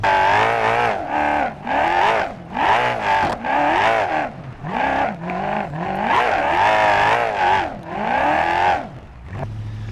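A farm truck fitted with a twin-turbo V8 in BeamNG.drive roars through repeated loud revs and gear shifts, engine pitch climbing and dropping in bursts with occasional tire squeal, close and dominant with no talk.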